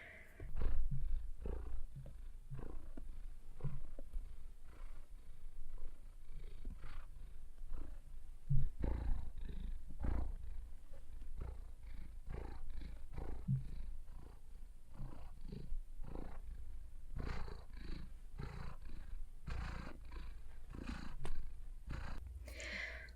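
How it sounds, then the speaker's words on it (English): A cat purrs loudly and close up, a rough rhythmic rumble pulsing on and off without pause. "he is currently stomping on the blanket and purring loudly"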